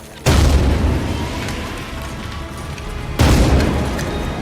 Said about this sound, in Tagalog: pinasabog din ni Lisa ang bawat silid gamit ang mga granada